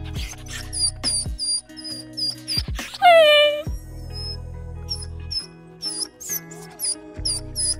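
A puppy whimpers and yips in short, high, repeated cries that come close and clear over a soft background hum, with a brief rising squeal midway through.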